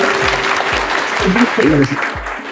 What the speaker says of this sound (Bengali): ওর জন্য একটা করতালি হয়ে যাক